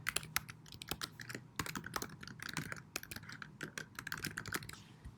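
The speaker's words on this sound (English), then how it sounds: "So you type something in here." Rapid keystrokes on a computer keyboard clatter in uneven bursts, close and fairly quiet, with brief pauses between runs of typing and no speech.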